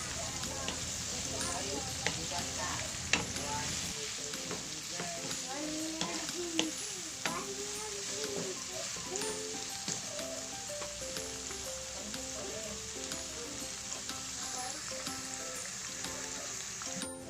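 String beans with soy sauce being stir-fried in a home pan, a steady moderate sizzle with occasional stirring clatter, while a voice speaks intermittently over it.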